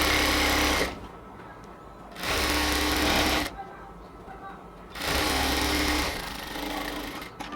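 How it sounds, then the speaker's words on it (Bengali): Sewing machine stitching a border onto the hem of cotton salwar pants, running in bursts of roughly a second and a half with short pauses between them, close and fairly loud. "আমরা সালোয়ারের মুখে যে বর্ডারটা দিতে হবে, আমরা সেই বর্ডারটা দিয়ে নিব।"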